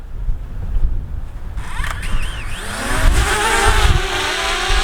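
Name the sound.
DJI Mavic Mini drone taking off from hand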